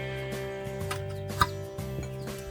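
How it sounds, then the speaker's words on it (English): Chickens cluck close by in a farmyard, a run of short irregular clucks and one sharper squawk over a steady background hum. "Probably hear the chickens in the background."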